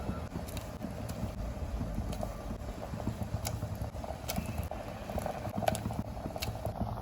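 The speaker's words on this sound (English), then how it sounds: "after it comes to a boil, it's already coming to a simmer." Tomato sauce with water for canned sardines simmers in a cooker, giving a steady low bubbling hiss with faint scattered pops and clicks throughout.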